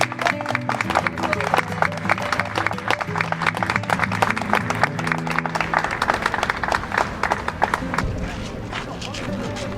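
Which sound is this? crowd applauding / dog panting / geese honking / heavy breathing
crowd applauding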